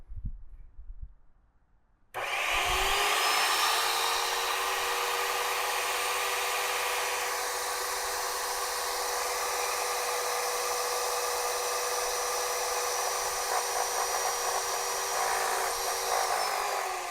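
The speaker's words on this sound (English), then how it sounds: "And then we're going to turn the machine on and it should pump through here into here." An airless paint sprayer switches on after a couple of quiet seconds to prime and pump Sashco Transformation stain, then holds a loud, steady high-pitched motor whine with a faint hum underneath until the end.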